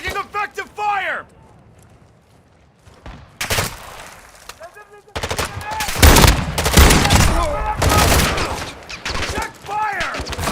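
Gunfire in Call of Duty Warzone 3 DMZ on Al Mazrah, with loud bursts of shots and a sustained fusillade in the second half after quieter moments, mixed with shouted voice callouts.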